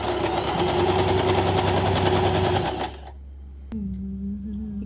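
Sewing machine with an all-purpose presser foot running a normal straight stitch at length 2, a steady whirring hum for about three seconds before it stops, followed by faint clicks and a quiet tone.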